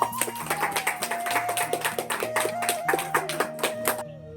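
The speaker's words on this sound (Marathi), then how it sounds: "सर्वांनी जोरदार टाळ्या वाजवायच्या आहेत" A crowd at a birthday gathering claps in a rhythmic, fairly loud burst of applause, with a sustained musical tone running underneath.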